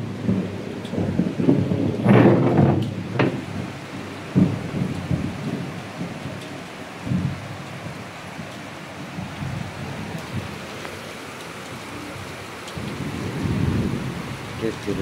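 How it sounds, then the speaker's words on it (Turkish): Thunder rumbles through steady heavy rain during a thunderstorm, with a loud crash early on and further low rolls later, while voices speak faintly in the background. "Gene gök gürültülü büyük bir yağmur"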